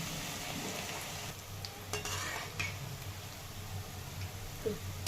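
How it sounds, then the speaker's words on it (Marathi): Onion bhaji fry in hot oil with a soft, continuous sizzle at moderate volume, joined by a few faint utensil clinks and stirring scrapes, with no speech. "तेल छान गरम झालेलं आहे तर आता हे भजी करून घेते"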